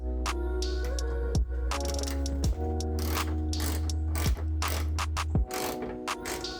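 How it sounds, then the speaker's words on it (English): A 10mm ratchet wrench tightens a hood lift support bolt on a 2002 Toyota MR2 Spyder, giving several close bursts of rapid clicking with short pauses between strokes. "Go ahead and tighten it up with a 10mm wrench."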